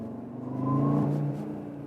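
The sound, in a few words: Audi RS Q3 turbo sound while driving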